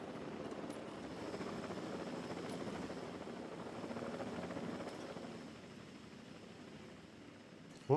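Helicopter from the video game Jurassic World Evolution 2, a steady whirring rotor drone with a wash of noise, fairly faint and easing slightly toward the end.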